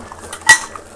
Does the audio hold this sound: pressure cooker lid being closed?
yes